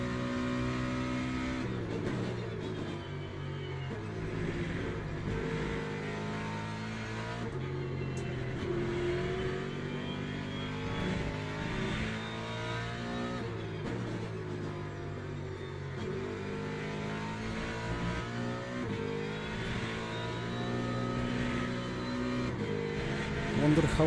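A Porsche race car engine in the sim racing game Le Mans Ultimate drones and revs continuously through shifting gears, with other cars nearby and a voice talking over it.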